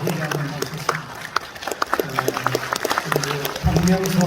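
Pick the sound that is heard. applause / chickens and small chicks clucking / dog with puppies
applause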